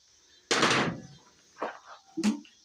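An oil pan comes loose as it is pried off a blown 360 engine from a 4WD, a sharp metallic clunk followed by two smaller knocking thuds, close up.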